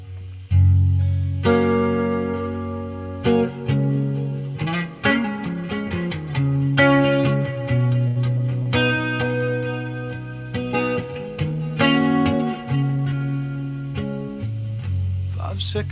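An electric guitar plays through a Fender Vibralux Reverb amp on the vintage channel with a little reverb, giving clean, sustained chords and plucked notes that ring and overlap steadily throughout, with no talking over it.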